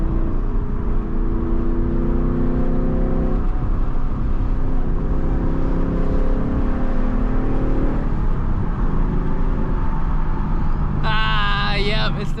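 Loud V8 rumble from a 2024 Mustang GT with an H-pipe exhaust, a steady droning engine note that swells and shifts in pitch as it revs, with someone talking over it throughout.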